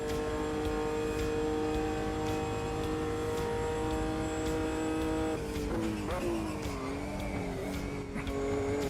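Engine of an early Caterham or Lotus 7 style car in Automobilista 2, a steady buzzing drone held at constant pitch, then wavering and dipping through gear changes near the end.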